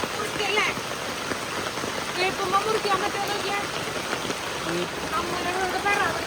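Steady rain falling around a house during a downpour, a dense continuous patter of drops on surfaces at moderate level, with faint voices in the background.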